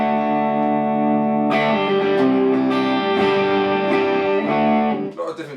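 A Hagstrom Viking P semi-hollow electric guitar plays through both pickups, the neck pickup turned low and the bridge pickup at full volume. It gives sustained chords with several strums, clear and fairly loud with a touch of overdrive, and no voices.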